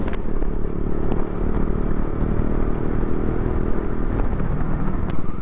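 Steady engine drone of a KTM Duke 250 motorcycle throughout, loud and close, with a constant rumbling hum as the bike cruises along.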